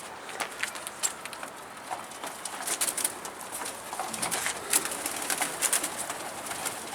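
Pigeons coo softly while wings flutter and flap in quick, scattered bursts nearby, a busy, restless flock with no talking.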